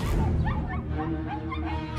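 Several puppies bark, yip and whimper in quick overlapping bursts, high and excitable, over a muffled background.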